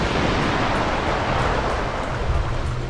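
Continuous wash of Caribbean surf breaking on a white sand beach on Grand Turk, a dense, steady hiss of water close by with no voices.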